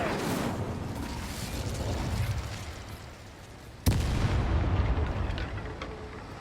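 A fire spell cast in the Hogwarts Legacy video game gives one sharp burst partway through, over a dense, roaring wash of game noise and effects.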